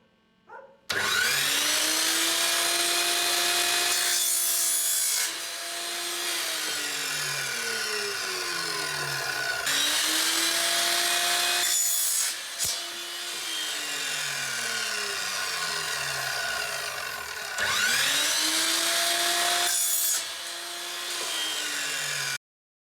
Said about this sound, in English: I'm going to cut the PVC into shorter pieces to create the joins